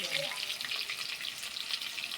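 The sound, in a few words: food frying in hot oil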